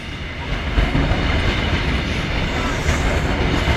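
A long freight train rolls through Lincoln Central level crossing, a steady loud rumble with rhythmic clickety-clack of wagon wheels on rail joints throughout, heard close by.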